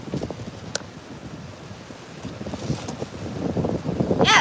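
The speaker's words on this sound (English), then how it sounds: "It is so freaking windy." Strong wind buffets the microphone outdoors on a rooftop, a steady low rumble that swells louder toward the end, with faint voices underneath.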